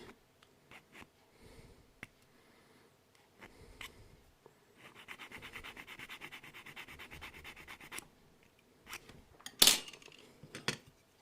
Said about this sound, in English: There is just a tiny, tiny bit of flash just inside there that needs filing off